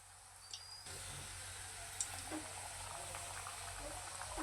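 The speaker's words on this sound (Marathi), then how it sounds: "आता हे आपण छान मस्तपैकी सोनेरी रंगावर तळून घेणार आहोत" Medu vada frying in hot oil until golden, a steady soft bubbling sizzle with a few faint pops, close and fairly quiet, running evenly without talk.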